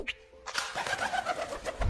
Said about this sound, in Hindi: कबूतर जब अपने पंखों को फड़फड़ा के उड़ता है तो कुछ ऐसी आवाजें आती हैं